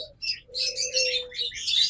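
King quail, blue classic pairs kept for sale, give high chirping calls in quick repeated bursts over a thin steady whistle, close and fairly loud.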